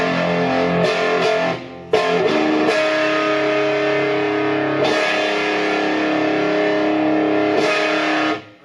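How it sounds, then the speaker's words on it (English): Sustained distorted electric guitar chords on a Gibson Les Paul Custom ring out loud and thick, with a brief drop near two seconds before the held notes resume and fade. "It's like a kind of a Les Paul distortion."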